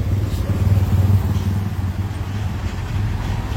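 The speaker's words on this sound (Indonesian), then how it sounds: "Wih, ngereng motornya." Motorcycle engine revving near a truck, a loud, steady low rumble with rising and falling throttle surges and some clatter, heard close and alone.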